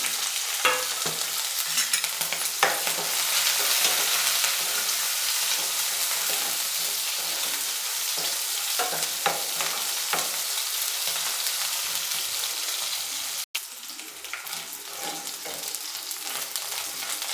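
Green chillies, garlic and onion fry in tempering oil for a garlic-pepper lentil saaru, a steady, close sizzle broken by frequent stirring scrapes and clicks, with no talking.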